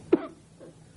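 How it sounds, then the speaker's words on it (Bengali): A single short, sharp cough bursts out near the start of a scene from a Bangladeshi comedy drama, followed by quiet with a faint, low murmur. "যতই আটকাই কাশি ততই বাইরে আসে"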